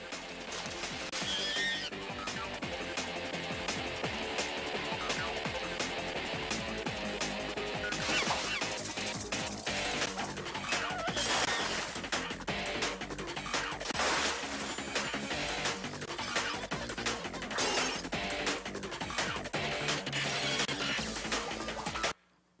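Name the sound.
action scene from the Powerpuff Girls movie, crashes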